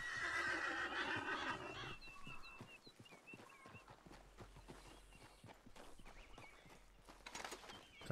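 A horse in the video game Red Dead Redemption 2 gives a loud, shaky whinny at the start, followed by quieter hoof clops and rustling, with another short snort near the end.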